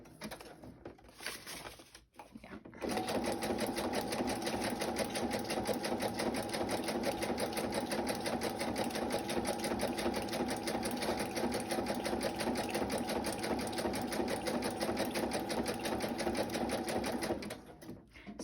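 Sewing machine stitching an image onto a paper bag, starting after a few quiet handling sounds and then running in a steady fast rhythmic chatter with a whirring hum for about fifteen seconds before stopping.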